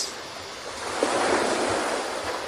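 Ocean waves break and wash along the shore in a steady, broadband roar, with a gentle swell of surf rising near the middle and some wind noise over the water; no voices.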